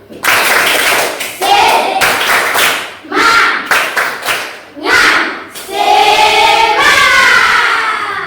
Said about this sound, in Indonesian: Tepuk semangat untuk semuanya.